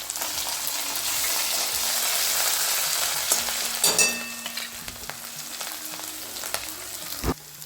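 Ginger, chili and garlic paste frying in hot oil with cumin and dry spices gives a loud, steady sizzle that eases off a little as it is stirred, with a few soft clinks and no talking.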